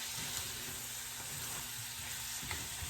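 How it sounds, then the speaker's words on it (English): Spices simmering and sizzling in a pan on a stove turned to a high setting, a steady quiet frying hiss with soft crackles throughout and no voices. "that's just a really high setting for my stove, so I can smell the spices simmering"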